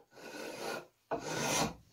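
A scraper spokeshave shaves thin curls from a wooden axe handle in two close, raspy strokes, the second longer and brighter, with a short pause between them.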